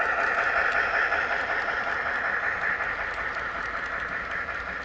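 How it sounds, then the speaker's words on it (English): Model train pulled by CN locomotives running on a small loft layout, a steady continuous rolling rumble with faint rail clatter, fairly close and unbroken throughout, with no talking. "I'm gonna switch up CN locomotives again."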